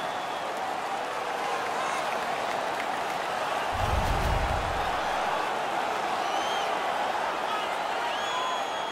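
A hockey arena crowd roars in the NHL 17 video game, a steady wash of cheering and noise that swells briefly with a low rumble midway, faint voices mixed in.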